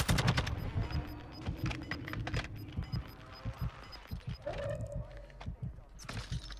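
Sniper and machine gun fire in a Call of Duty Modern Warfare match, rapid bursts of sharp shots with a tonal whine midway, as teammates talk over the gunfire.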